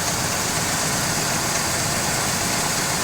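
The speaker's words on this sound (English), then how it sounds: "I guess I've never shown the Camaro running on camera, but you'll notice how quiet it is." A Chevrolet Camaro engine with a 2-barrel carburetor idles steadily and close by, a continuous even rumble with a slightly high idle and no talking.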